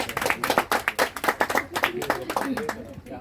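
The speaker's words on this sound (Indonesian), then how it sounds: "Kita beri tepuk tangan dulu, Bapak." A standing audience at a traditional Papuan betrothal ceremony claps hands in a brisk, uneven burst of distinct claps, fairly close and loud, thinning out after a few seconds.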